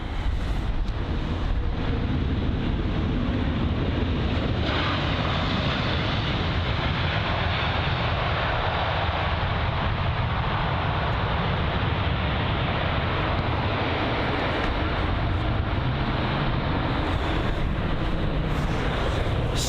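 A LOT Polish Airlines Boeing 737 MAX 8 lands at London Heathrow after a flight from Warsaw, heard as a continuous broad roar of engine and wind noise that stays loud and steady throughout, with no voices.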